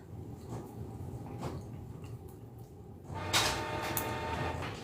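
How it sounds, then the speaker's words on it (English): A home printer runs with mechanical whirring and clunks, a soft rumble at first, then a louder feed or carriage movement with a brighter rattling whir in the second half, no speech. "That is my printer, don't mind me."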